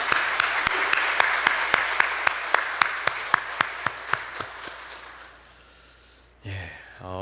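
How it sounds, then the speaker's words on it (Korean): A church congregation claps in praise of God, a steady rhythmic beat of about three claps a second that slowly fades out, followed by a brief burst of voice at the end. "우리 하나님께 영광과 존귀의 박수로 하나님을 찬양하겠습니다."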